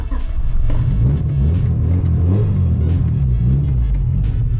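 A B16A-swapped Honda Civic EK1 idles roughly on stiff engine mounts, giving a loud, close, steady low rumble with slight uneven pulsing throughout and no talking.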